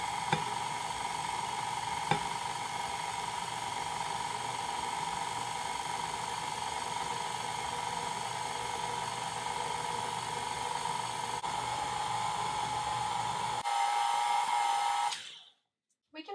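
KitchenAid stand mixer mixing all-purpose flour, salt and baking soda, a steady continuous motor whir with a faint occasional tap, running close and even before stopping abruptly near the end.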